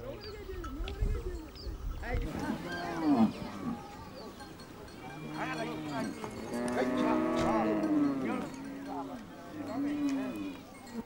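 Several Maasai cattle low and moo in long drawn-out calls, some overlapping, at moderate distance, beneath a narrator's continuous speech.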